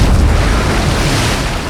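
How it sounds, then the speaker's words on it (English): A tremendous explosion in the water just off a ship's starboard bow, heard in an old 1958 film, gives a loud, sustained booming roar with a deep rumble throughout. "There was a tremendous explosion just off our starboard bow."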